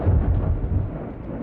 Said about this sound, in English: Once outside, Brown takes the rocket to a bunker and detonates it.